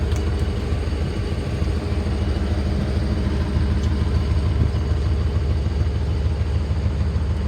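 A 1995 Ford F-350 XL cab-and-chassis truck with a 7.5L gas engine idles steadily, a close, even low rumble holding constant throughout with no talk over it.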